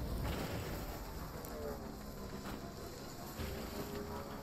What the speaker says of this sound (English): Oh my gosh, here comes the rain again.